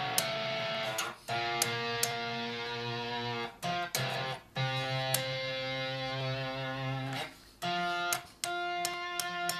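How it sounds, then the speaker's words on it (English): Tap harmonics ring out on an electric guitar with effects, a steady run of bright, sustained chiming notes struck in a rhythmic sequence with short gaps and sharp attacks, played alone. "my next video is going to be about tap harmonics. They sound like this."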